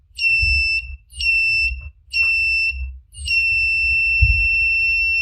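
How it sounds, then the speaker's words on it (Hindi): A buzzer in a simple transistor water-sensor overflow alarm circuit sounds in four loud, shrill tonal bursts, the last held longest, close and clear with no talk over it. "सर्किट यहाँ पर कंप्लीट होने की वजह से बोजर जो है साउंड कर रहा है"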